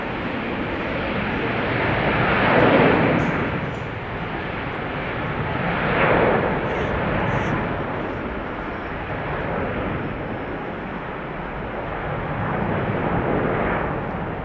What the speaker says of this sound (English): Cathay Pacific A350 1000 going to Hong Kong, flight 270.